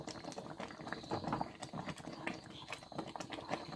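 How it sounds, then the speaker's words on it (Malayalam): Thick ripe jackfruit halwa cooking down in a pan, giving a steady run of bubbling, popping splutters with irregular thick bursts, close and continuous. "ഇനിയിപ്പോൾ പൊട്ടിത്തെറിക്കാനൊക്കെ തുടങ്ങും, അതുകൊണ്ട് തീ കുറച്ചിട്ട് വഴറ്റുക"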